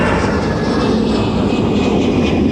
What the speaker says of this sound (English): getting a couple of NFL charter flights that arrived within a 10-minute window